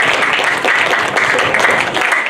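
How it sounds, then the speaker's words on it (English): An audience at a Micronesia festival storytelling session breaks into dense, continuous applause, loud and close throughout with no pause. "And please give a round of applause."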